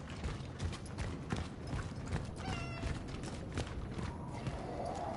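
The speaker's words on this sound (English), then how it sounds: "Where's the cat? I hear it." A cat meows faintly inside a busy game soundscape in the horror game Cronos: The New Dawn, with brief mewing calls half-buried under constant mechanical clatter and rattling ambience.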